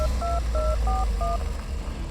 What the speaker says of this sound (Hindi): दूसरी ओर गाड़ी चलाते हुए अभिनव ने बलराज का नंबर भी डायल कर दिया।